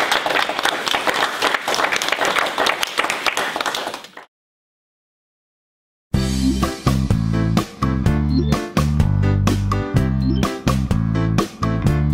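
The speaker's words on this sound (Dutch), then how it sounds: "Als u even zo gaat staan, dan kan iedereen een applaus." An audience claps loudly for an award recipient at a ceremony in Almelo, with a first burst of applause, a short silence, then steady rhythmic clapping joined by music.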